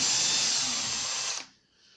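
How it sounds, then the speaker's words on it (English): Loud, continuous whine of a power drill boring holes in model pitchside scenery, steady for over a second before cutting off abruptly, then near silence. "I'm going to get a load of them in and basically drill these holes."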